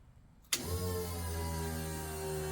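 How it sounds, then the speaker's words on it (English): A Mitsubishi Magna street stock car's fuel pump switches on with the ignition, a steady, close electric hum that starts about half a second in and holds unchanged to the end. "See if the fuel pump cycles now"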